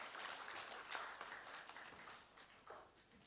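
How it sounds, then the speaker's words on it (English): Audience applause at a business forum fills the hall as a steady patter of many hands clapping, fairly faint and distant, tapering slightly toward the end. "Let's have a round of applause for him, please."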